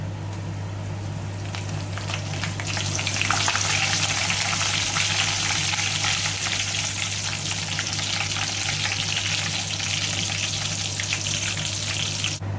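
Curry leaves are fried in oil for a paal kappa tempering, making a loud, continuous hissing sizzle that swells after a few seconds and holds steady, with no talking.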